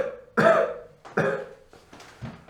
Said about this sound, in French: Toussez.